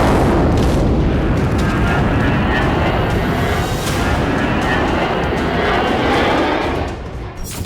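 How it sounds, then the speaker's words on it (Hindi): IDF fighter jets pass over Gaza, a loud continuous roar of jet engines with booming rumble filling the whole stretch, steady and close, fading slightly at the very end. "सीजफायर के बीच ही 2 दिन पहले गाजा में आईडीएफ के फाइटर जेट भी दिखे"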